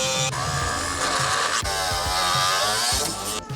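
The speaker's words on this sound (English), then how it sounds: "This is a Dremel, also known as a rotary tool." A handheld Dremel rotary tool grinds and cuts through plastic with a steady high-pitched whine, loud and close, running almost continuously with brief dips in load.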